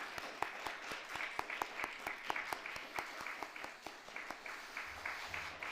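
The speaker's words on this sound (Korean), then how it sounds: "우리 박수로 환영하겠습니다" A church congregation claps to welcome new members at a Sunday service, a fairly quiet scattering of distinct individual claps over a soft wash of applause, continuing for several seconds.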